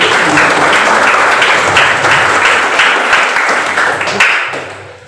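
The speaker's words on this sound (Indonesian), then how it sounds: "Kita beri tepuk tangan terlebih dahulu." Loud applause from school students at a junior high student council candidates' vision and mission presentation, many hands clapping close and dense before tapering off at the end.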